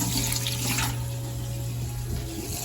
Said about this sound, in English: We're gonna come back over here to the sink.